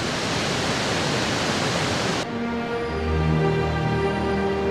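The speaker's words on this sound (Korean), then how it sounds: "그들이 쏟아내는 물소리는 그야말로 음악에 가까웠습니다" Roar of the Iguazu waterfalls in Argentina, a loud, steady rush of pouring water that fills the whole clip, with music entering partway through over the continuing roar.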